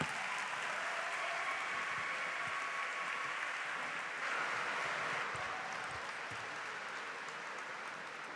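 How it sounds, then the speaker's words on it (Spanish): Steady applause from an audience at an academic talk on effective communication, filling the room evenly for the full stretch at moderate level, with a faint voice briefly audible beneath. "Un fuerte aplauso para ella, por favor"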